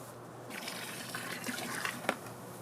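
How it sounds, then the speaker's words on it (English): Water runs from a hose into a tank of black diamond blasting sand, a quiet, steady gushing and splashing that builds slightly, with a few small splashes near the end. "So we're going to turn the water on in here."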